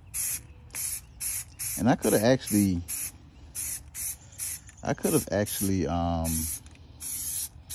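Peel coat spray paint goes onto an Audi A7 rim in a series of short, sharp hissing bursts. Someone talks between and over some of the sprays.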